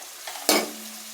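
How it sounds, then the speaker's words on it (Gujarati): A single quick spoon stroke scrapes through a curry leaf sabzi masala mix in a pan, a short sizzling swish over a quiet kitchen hum. "બધું મિક્સ કરીને આપણે થોડી વાર માટે ચડવા દેશું"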